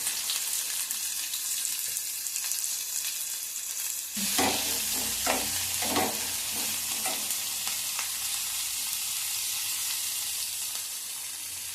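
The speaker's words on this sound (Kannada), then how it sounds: "ಈರುಳ್ಳಿ, ಬೆಳ್ಳುಳ್ಳಿ, ಶುಂಠಿ ಎಲ್ಲವನ್ನು ಎಣ್ಣೆಯಲ್ಲಿ ಫ್ರೈ ಮಾಡ್ಕೋಬೇಕು." Onion, garlic and ginger frying in hot oil: a continuous close sizzle, with a burst of rhythmic stirring strokes in the middle before it settles back into steady frying.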